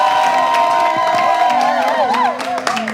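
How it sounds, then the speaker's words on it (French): A studio audience at a season-finale television show claps and cheers loudly, with high shouts and whoops from many voices rising over a dense wash of applause. "On applaudit très fort avec du bruit pour les téléspectateurs."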